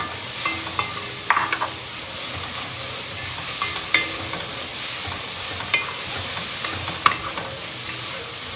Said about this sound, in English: I'll add my garlic now